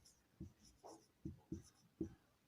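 Handwriting sounds on paper during a Hindi grammar class: soft, close scratches and taps of a pen in short irregular strokes, about five distinct marks over a quiet background.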